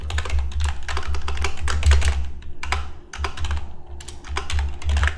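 Fast, close typing on a computer keyboard, crisp clicking keystrokes in dense bursts with a couple of brief pauses, heard alone.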